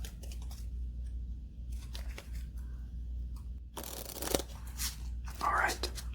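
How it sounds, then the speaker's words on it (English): Playing cards from a standard deck being shuffled by hand in a quiet room, soft riffling and rustling bursts that grow louder near the end, with a low steady hum underneath. "Just do another quick shuffle."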